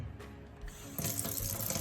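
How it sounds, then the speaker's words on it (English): A kitchen tap runs while hands are washed with soap, a steady close rush of water that swells louder about halfway through, with no talk. "I'm going to properly demonstrate the right way to wash your hands"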